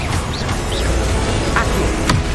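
Magic spell blasts in Hogwarts Legacy, a fiery Confringo cast amid a dense wash of combat effects, with a sharp crack near the end over steady loud game noise.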